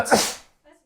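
One short, sharp human sneeze sounds close and moderately loud, followed by a faint trace of voice just after it.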